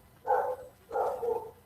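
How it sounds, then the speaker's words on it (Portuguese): Dogs barking in two bursts, heard faintly from a distance, with other dogs answering from indoors; no talking. "Os cachorros começaram a latir lá fora e lá de dentro estão respondendo."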